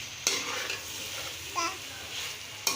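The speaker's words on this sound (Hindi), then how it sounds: "अब इसको मसाले को और चिकन को अच्छे से मिक्स कर लेंगे" Masala and chicken sizzle in a pan while being mixed, with a few brief spoon scrapes and clinks over a steady frying hiss, close and unaccompanied by speech.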